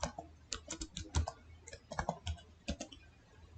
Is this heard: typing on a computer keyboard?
yes